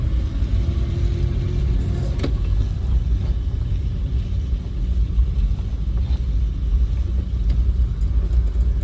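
Engine of a car on the road during a driving lesson, a steady loud low rumble with a faint hum throughout. Gear changes and clutch work happen under it, and no one talks.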